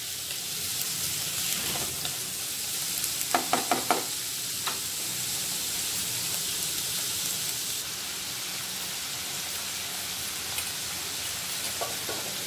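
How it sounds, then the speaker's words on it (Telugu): Moringa drumstick pieces are tipped into a hot pan of masala curry and stirred, giving a steady sizzle with a few short knocks and clatters near the start and occasional faint taps afterwards. "ఇప్పుడు ములక్కాయలను యాడ్ చేస్తున్నాం।"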